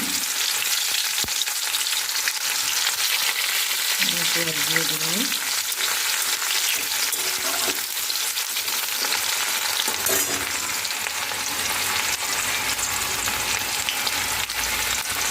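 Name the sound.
onions frying with garam masala and cumin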